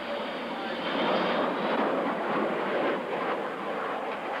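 A Concorde passes at an air show with a broad, steady jet roar that stays loud and swells slightly through the middle.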